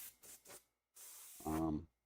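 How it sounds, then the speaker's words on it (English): Createx opaque paint sprayed through an airbrush onto a paper spray-out card: short hissy bursts followed by a longer continuous spray, with a voice briefly overlapping at the end. "That way you can kind of see the coverage that might be involved with just spraying an opaque paint."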